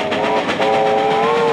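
Western Maryland Scenic Railroad train passing close near Helmstetter's Curve, with a loud steady rumble and a sustained whistle-like tone that holds through the moment.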